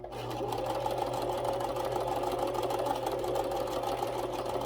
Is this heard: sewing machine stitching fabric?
yes